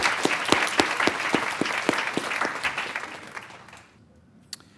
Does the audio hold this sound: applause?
yes